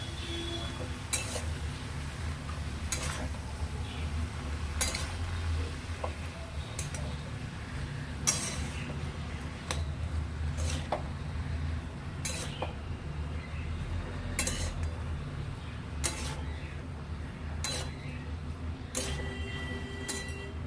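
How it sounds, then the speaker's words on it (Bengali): A spoon scrapes and clinks against a pot while bottle gourd and shrimp curry ingredients are stirred together, sharp metallic taps recurring every second or two over a steady low background hum. "সমস্ত উপকরণগুলো একবার ভালো করে মিশিয়ে দেব"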